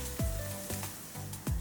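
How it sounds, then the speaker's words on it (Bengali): Raisins, dates and chopped nuts frying in ghee in a pan over low heat make a soft, steady sizzle, broken by a few rhythmic scraping stirs close by. "এগুলোকে হালকা আঁচে আমরা সুন্দরভাবে ভেজে নেব।"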